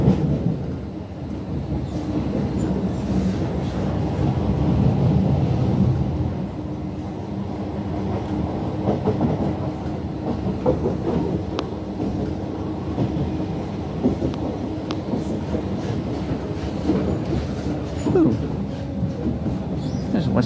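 Low continuous rumble of a Class 319 electric train arriving at Preston Station, heavy wheel and carriage noise with a steady, droning roar.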